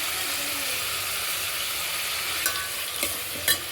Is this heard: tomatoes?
yes